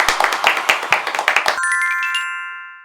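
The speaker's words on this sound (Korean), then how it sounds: "박수!" A quick burst of hand clapping acclaims a winning milmyeon noodle restaurant in a food-ranking show. Sharp, rapid claps last about a second and a half, then a bright chime rings out and slowly fades.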